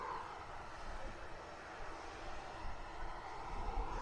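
A propeller aircraft drones past at a distance, a steady broadband engine hum that swells slightly toward the end, with no talking.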